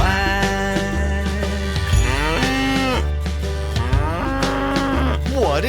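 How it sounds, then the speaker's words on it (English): Cow mooing in a children's farm-animal lesson, several drawn-out lowing calls in a row over a busy musical backing, loud and upfront with no speech. "It's a big cow. Moo, moo, moo."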